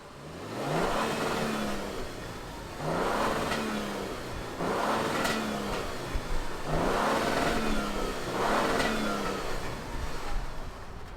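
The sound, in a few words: pickup truck engine starting and running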